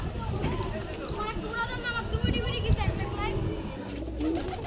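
Pigeons being kept on an abandoned rooftop, with soft cooing and wing or body rustle mixed into a steady murmur of nearby voices and background bustle.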